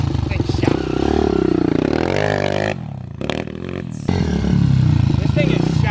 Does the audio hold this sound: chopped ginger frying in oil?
no